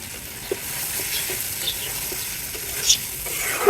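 Eggs frying in spiced masala, giving a continuous hiss-like sizzle with occasional small pops and spoon taps, heard up close without speech.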